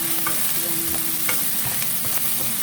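Crab pieces hit a hot pan of stir-fried sweet potato leaves, setting off a steady, close, loud sizzle with stirring scrapes throughout and no voices.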